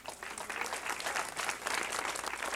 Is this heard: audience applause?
yes